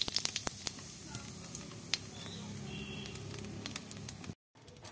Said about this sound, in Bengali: তেলটা গরম হয়ে গেছে, তেল দিয়ে দিয়েছি, তেল গরম হয়ে গেছে। এবার দিয়ে দেবো দুটো জিরে।